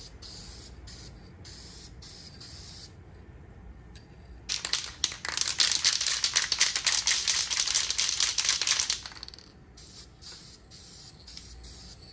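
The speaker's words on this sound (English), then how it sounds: "So we're just gonna spray it like so here." An aerosol can of copper gasket spray hisses in one steady spray lasting several seconds onto an engine gasket of an Arctic Cat DVX400 ATV, close by, with light clicks and handling noise before and after.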